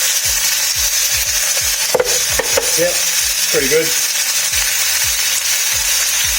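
Meat sizzles in olive oil in a pan, a loud, steady hiss throughout, with a few scraping stirs and a voice talking briefly in the middle.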